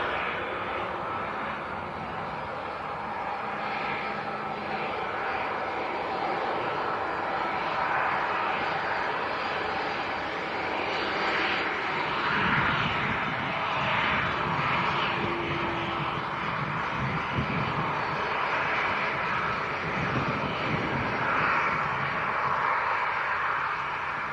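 A TUI Boeing 737-800 departs Leeds Bradford Airport with a continuous roaring jet engine that swells and rumbles as the aircraft climbs away at a distance.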